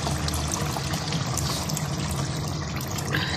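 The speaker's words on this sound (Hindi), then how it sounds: "अब मैं इसके अंदर ऐड कर दूंगी थोड़ा सा पानी।" Water trickling and pouring into a pot of cooking mutton kofta curry, a steady continuous splashing pour heard up close with no speech.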